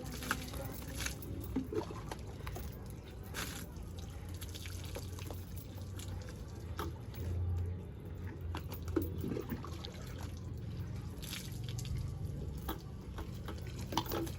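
Cold water is poured and dripping while a pet is bathed on a hot day. The splashing is soft and continuous, with faint voices now and then.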